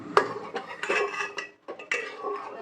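Rice and sugar stirred in a metal cooking pot, with a spoon clattering and scraping against the sides in uneven strokes, a brief pause, then more stirring close by.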